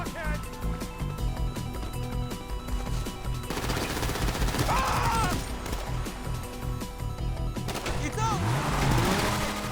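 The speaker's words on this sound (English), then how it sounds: "we're going to be tanking a lot of gunfire as we get to our bike" Video-game gunfire in GTA Online during a heist getaway, with rapid automatic bursts and scattered shots crackling over vehicle engine noise and game music, while a voice talks throughout.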